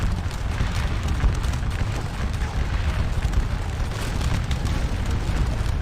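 Cannon and musket fire from the Waterloo battle game Scourge of War, heard as a dense, continuous rumble of gunfire and booms with no pauses and no voices.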